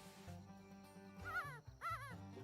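A dog whimpers and yips in short, rising, whiny bursts over a steady low background, with two clear high-pitched cries close by near the end.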